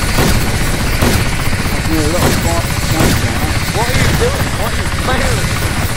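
A helicopter in DayZ on the Namalsk map spools up for takeoff with a loud, continuous rotor and engine roar, while players talk and shout excitedly over it.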